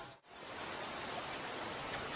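Heavy rain pours in a steady, dense hiss of falling water, loud and unbroken after a brief dip at the start, with no voices present.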